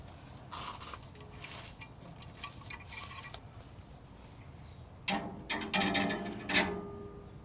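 A clamp is ratcheted tight onto a car brake line hose fitted over a bubble flare: two bursts of quick, close metallic clicking separated by a quieter pause, with no one speaking.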